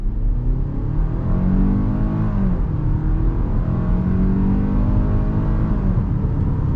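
A naturally aspirated 2022 Hyundai Tucson pulls away from a stop under throttle, its engine droning steadily with rising then dipping pitch as the 8-speed automatic shifts, heard from inside the cabin, continuous and fairly loud with no talking.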